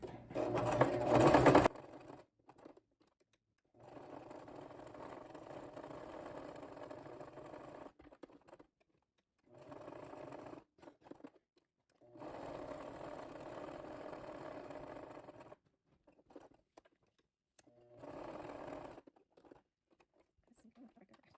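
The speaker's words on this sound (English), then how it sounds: "I am just a girl with her mom's old sewing machine" An old sewing machine stitching fabric and paper runs in several bursts of whirring, rapid stitching, each lasting a few seconds, separated by short pauses, with a brief loud knock at the start.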